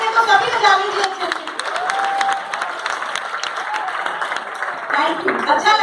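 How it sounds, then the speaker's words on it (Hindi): An audience claps steadily in a dense, continuous round of applause that fills the room, with a voice speaking over it. "अच्छा लगता है ना जब आपके लिए कोई ताली बजाता है"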